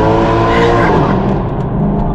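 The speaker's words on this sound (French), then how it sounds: "C'est les préliminaires, on fait chauffer les pneus" A Mercedes AMG car revs hard while warming up its tyres, a loud, close, sustained engine roar with a rising then settling harmonic whine and a hint of tyre squeal, alone without talk.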